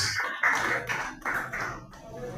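A church congregation claps during a Portuguese-language sermon, several loud bursts of applause rising and falling over about two seconds.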